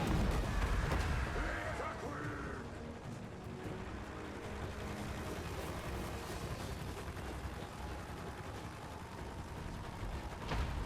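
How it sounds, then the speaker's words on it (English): Artillery shells land in a Total War: Warhammer III battle, with low booming impacts under a dense, rumbling battlefield din that carries on steadily with no talk heard. "You can see the artillery shells coming in to support our guys."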